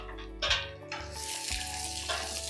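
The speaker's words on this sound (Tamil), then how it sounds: "ஒரே ஒரு பெரிய வெங்காயத்தை நல்லா இதுலயே போட்டு வறுத்துக்கலாம்" A large onion frying in a pan on low heat for coconut chutney, with a soft, steady sizzle close by and a few light stirring bumps, no talking.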